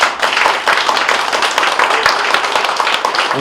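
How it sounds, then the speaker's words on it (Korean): Audience applause at a volunteer launch ceremony, a dense, steady wash of many hands clapping close by for the whole stretch without letting up. "제 말씀에 대해서 동감하신 박수 한번 주세요"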